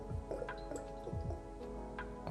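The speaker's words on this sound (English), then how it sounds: "let's just pour a little shot of it" Clear mezcal poured into a shot glass, a short run of soft trickling and dripping, close and quiet, with no talking.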